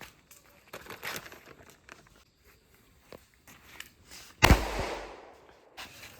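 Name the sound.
firecrackers bursting during Vishu celebration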